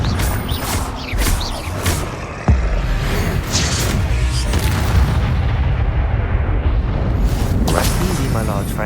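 Blasts from the Confringo fire spell in Hogwarts Legacy on PS4 erupt in a series of loud booms and whooshes, with thuds and rumbling combat effects layered between them.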